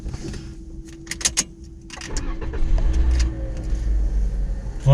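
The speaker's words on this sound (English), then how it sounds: "Get your car started." A car engine is started during a road test in Mississauga, Ontario. A few clicks come first, then a low engine rumble rises and settles into a steady idle.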